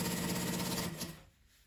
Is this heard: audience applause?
no